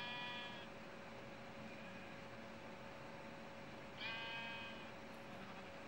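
Minecraft sheep bleat twice in the game, once at the start and again near the four-second mark, with a steady in-game background hum between the calls.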